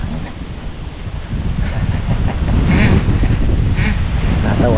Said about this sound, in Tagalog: Malakas lang hangin.